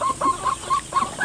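A native hen clucks in short, repeated bursts, close and moderately loud, with no other sounds.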